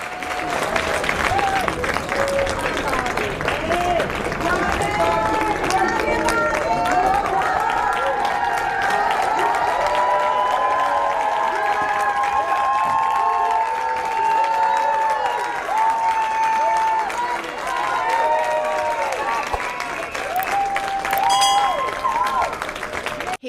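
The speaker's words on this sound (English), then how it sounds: "RFK was given an overwhelming round of applause once it ended" Sustained applause from a crowd as a Senate confirmation hearing for RFK Jr. adjourns, a continuous dense clapping wash with scattered voices and cheers throughout.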